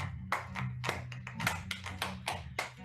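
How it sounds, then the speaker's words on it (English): Several people clap their hands in a rhythmic pattern, crisp repeated claps about every quarter second over a low background hum, fairly quiet. "You gotta clap."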